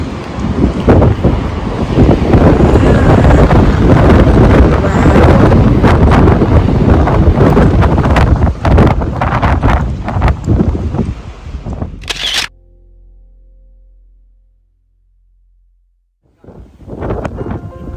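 Strong wind buffets an outdoor microphone with a loud, continuous roar for about twelve seconds, then cuts off abruptly to near silence before the noise briefly returns at the end.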